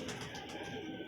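Pigeons coo softly at a pigeon club, a low, faint, continuous burbling with no talk over it.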